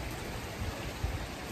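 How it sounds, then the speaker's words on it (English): Steady rain hisses evenly outdoors, a dense, continuous wash of patter with no pauses and no voices. "I don't mind to walk in the rain"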